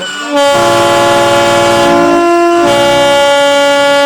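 A Vande Bharat Express train on the new Araria-Galgalia rail line blasts its horn close by, a loud sustained tone that dips briefly midway and then carries on.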